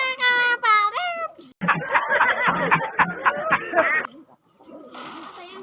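Pigeons cooing and murmuring near the camera in short bursts broken by pauses, with a person's voice heard between the calls.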